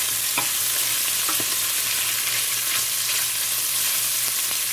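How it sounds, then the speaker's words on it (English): Chicken pieces browning in a hot pot for chicken bog, a dense continuous sizzle and crackle with scattered sharper pops, close and steady, with no voices. "As you can hear, it's just a crinkling and popping away."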